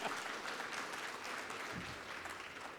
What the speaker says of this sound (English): Let's have one big round of applause for Russell Bhai.